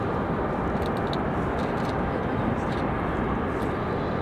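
An airplane taking off from Raleigh Durham airport makes a steady, loud broadband roar that holds at one level throughout, with no voices.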